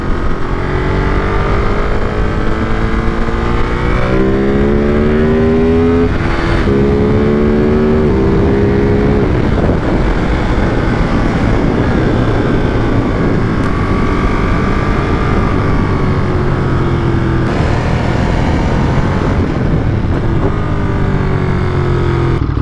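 A Ducati Monster 937 Plus motorcycle engine being ridden, loud and close throughout, with rising rev sweeps, quick-shifter gear changes and steady engine drone while cornering.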